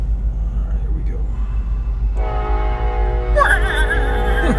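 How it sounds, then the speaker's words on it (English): A loud passing train near a storm-tracking spot, heard as a steady low rumble, then a sustained horn tone swells in and climbs to a bending, wailing peak, with traffic noise underneath. "There's a train nearby. That was loud"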